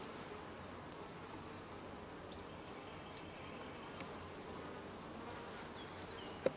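Honeybees buzzing around an open hive with a honey super during an inspection, a steady soft drone of many insects close by, with a few faint knocks and a brief click near the end.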